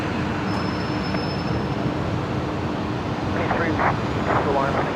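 A Qantas airliner lands on runway 01 right at Brisbane Airport, a steady broad roar that holds at an even level throughout, with voices faintly under the noise.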